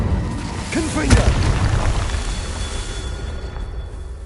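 A Confringo fire-blast spell in the video game Hogwarts Legacy, playing as a single sudden boom that rings out and then decays into a rumbling tail, with a voice shouting over the start of it.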